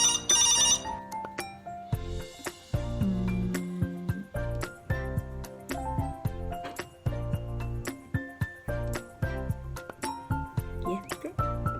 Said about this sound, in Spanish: El teléfono, por ejemplo.